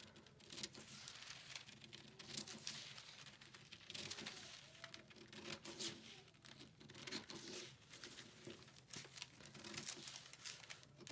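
Scissors cut straight along a line on a paper sewing pattern for a full bust adjustment, giving soft, irregular crinkly snips and paper rustles, close by and quiet, with no talking.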